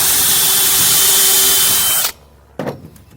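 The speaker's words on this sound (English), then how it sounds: "We're going to drill the hole," A power drill bores a hole into a warped wooden decking board with a loud, steady high whine that lasts about two seconds. It stops abruptly, and a short clunk follows.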